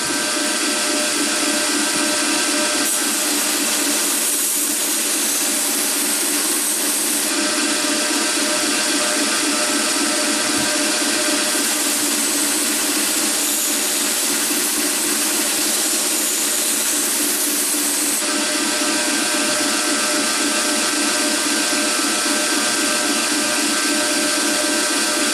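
Grinder hollow grinding a heat-treated knife blade in a rough grind, a loud continuous whirring hiss with abrasive scraping that brightens and dulls as the blade is pressed and lifted.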